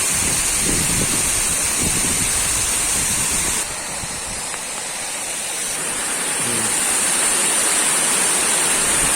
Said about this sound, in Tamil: ஷட்டர் 2ல பார்த்தீங்கன்னா கொஞ்சம் ஓரளவுக்கு தண்ணி ஸ்பீடாக தாங்க வருது